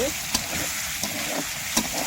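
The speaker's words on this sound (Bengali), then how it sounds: "তেল মশলায় একই সাথে ভাজা হয়ে যাবে।" Stinging catfish (shingi) pieces frying in oil with spices make a soft, steady sizzle, broken by a few sharp clinks of a spatula stirring the pan.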